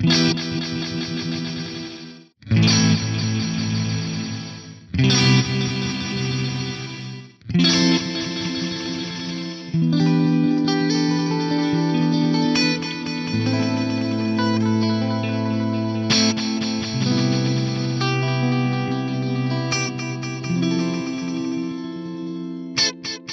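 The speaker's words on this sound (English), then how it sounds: "So not only is the delay panning left to right, the echoes are getting closer together." Sustained guitar-like chords run through a Megatap delay effect, with repeated echoes that pan across the stereo field and bunch ever closer together, layering into a dense wash with no talking.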